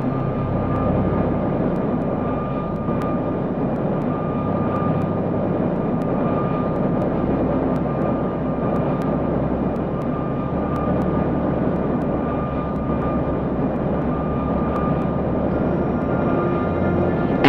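An aircraft engine drones through the cabin during flight, a loud, steady roar with a constant hum underneath that never lets up.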